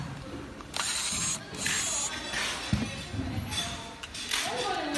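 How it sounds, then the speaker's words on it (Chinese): Screws loosened with a tool inside a disassembled LCD display: small metallic ratcheting and clinking sounds, with scrapes and taps close by, continuing through most of the stretch. A voice can be heard faintly. "再把里面两颗螺丝松掉。"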